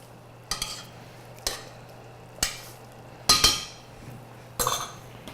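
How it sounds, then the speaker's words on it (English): A spoon stirs a tablespoon of mascarpone into a frying pan with bacon-wrapped chicken breast, giving five distinct scraping, clinking strokes spaced about a second apart over a faint steady hum, close and fairly loud. "we're going to add a good tablespoon of cheese to this, kind of stir it in, let it melt in"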